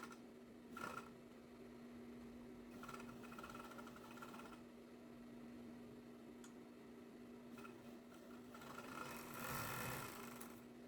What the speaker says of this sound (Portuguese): Overlock com acabamento para não ficar nada pendurado